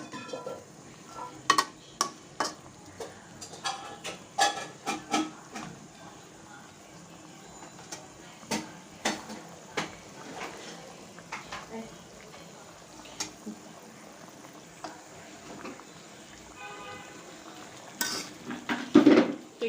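A spoon stirs and scrapes in a pan as eggplant and a hilsa fish head are sautéed together, with soft sizzling and intermittent metallic clinks, fairly quiet with a low background hum.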